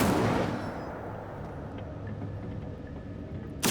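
An Incendio fire spell cast in a cave in Hogwarts Legacy erupts as a loud whooshing burst that rumbles down into a quiet echoing tail, with a sharp new hit right at the end.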